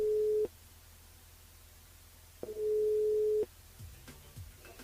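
A telephone line tone sounds as a radio show dials a caller: a steady beep, a pause, then a longer steady beep, followed by faint clicks and line noise.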